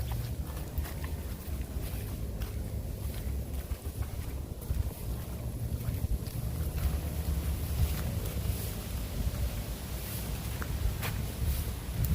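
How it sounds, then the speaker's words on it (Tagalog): Strong typhoon wind roars steadily in a low, dense rumble, buffeting the microphone continuously outdoors with no clear voices. "Lakas ng hangin"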